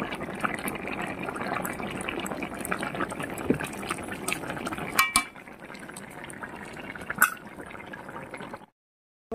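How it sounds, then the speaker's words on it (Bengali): Ghee goes into a pot of shukto, a Bengali mixed-vegetable dish, as it cooks: a steady near bubbling and sizzling with faint clinks of a utensil, fading quieter partway through before a brief silence. "ঘি দিয়ে দিচ্ছি।"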